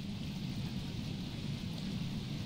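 Rain pours steadily in the Don't Starve game with a deep rumble of thunder beneath, a dense, even wash of noise with no voices.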